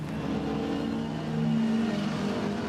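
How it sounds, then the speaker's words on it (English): A 4.7 litre small block Ford V8 race car engine from a 1960s classic sports car qualifying session at Brands Hatch GP circuit, giving a loud, steady burbling drone with a slight swell midway and no voices. "Sounds great as well with that V8 Burble."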